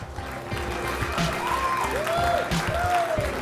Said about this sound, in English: One more time, a round of applause for these two semi-finalists